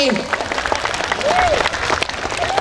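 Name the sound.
audience applause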